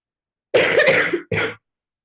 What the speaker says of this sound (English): Please excuse the cough.